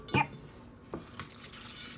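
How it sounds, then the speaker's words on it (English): Water is poured into an oobleck mixture of cornstarch and water, giving a brief splash followed by quiet wet stirring and scraping in a bowl, close and soft. "and I'll add some more water"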